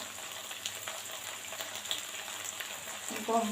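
Beef koftas frying slowly in hot ghee over low heat, a soft steady sizzle and crackle close by, with a few quiet spoken words over it.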